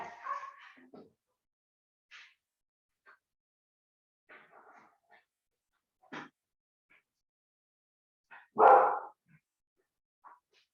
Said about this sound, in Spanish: saco a mi perro que está ladrando como loco